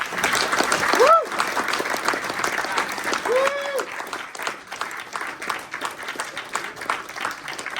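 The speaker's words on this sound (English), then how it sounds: "let's just have a round of applause for Damp Sam" A round of applause at the close of a college lecture on damp rises after brief tonal sounds and continues as a lively patter of many hands, with some voices mixed in.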